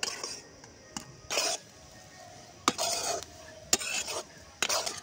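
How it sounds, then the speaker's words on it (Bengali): Mustard seeds heating in a kadai over a low flame are stirred in quick, separate bursts of dry rattling and scraping against the metal, with quiet gaps between the strokes. "কড়ার মধ্যে দিয়ে যত নাড়া হচ্ছে সর্ষেটা কিন্তু আরও ঝরঝরে হয়ে যাচ্ছে"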